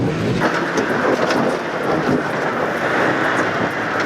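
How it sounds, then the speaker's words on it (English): A Land Rover Defender driven at full throttle in extreme mode up a steep 4x4 trail, a loud, continuous broadband engine roar holding steady throughout with no talk. "put the throttle to the floor as he pushes the defender"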